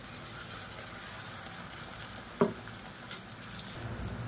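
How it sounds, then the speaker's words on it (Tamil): Ground masala paste goes into onions frying in a pan while making sambar, producing a soft steady sizzle with a couple of brief stirring knocks, quiet and close. "இந்த ஸ்டேஜில் அரைச்சி வச்சுருக்க பேஸ்ட்டை சேர்த்துக்கலாம்."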